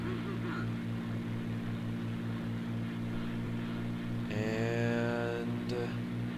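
A propeller plane in IL-2 Sturmovik runs its engine with a loud, pulsing low drone during its takeoff roll, and a short rising whine cuts in near the end.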